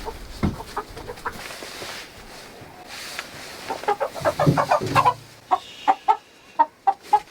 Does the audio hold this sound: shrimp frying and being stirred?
no